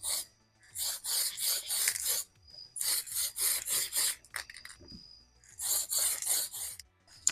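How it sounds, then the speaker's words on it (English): Tamiya PS-12 silver spray paint hisses onto a Tamiya Lunchbox or Marui Big Bear body in clusters of short, sharp spray bursts with brief pauses between groups. "let's spray some silver."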